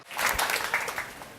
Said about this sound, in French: Alors, on l'applaudit, s'il vous plaît.